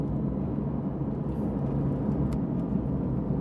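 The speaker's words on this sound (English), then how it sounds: "The sound of the differential, the gearbox and the engine, it's just so rattly." Inside a Porsche 911 991.2 GT3 on the move, the engine, gearbox and differential give a constant, fairly quiet low rumble and whir.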